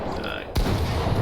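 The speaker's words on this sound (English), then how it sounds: "Shotgun." A shotgun fires once in Fortnite, a single sharp, loud blast cutting through steady game noise.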